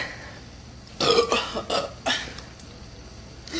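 Girls burp after drinking, several loud throaty burps in quick succession, close to the listener, with a quiet pause between bursts.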